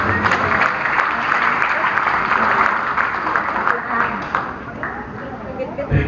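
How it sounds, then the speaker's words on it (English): A crowd at a Christmas party claps in sustained applause that gradually fades, with a voice speaking over it. "We give them all a warm round of applause."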